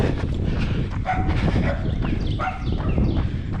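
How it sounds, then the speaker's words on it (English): Dogs bark in a backyard, the sharp barks loud and close and repeating irregularly over steady background noise. "These dogs, man."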